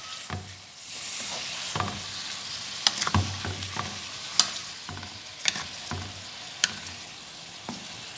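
Spices are stirred into apple gourd and green chilies frying in a karahi. Close sizzling runs throughout, punctuated by sharp metallic clinks and scrapes from the spoon at irregular intervals.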